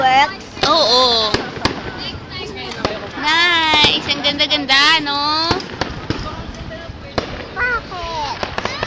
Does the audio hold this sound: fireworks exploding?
yes